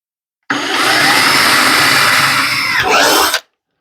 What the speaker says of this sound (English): So we are going to cut a 3/8 inch hole at our spot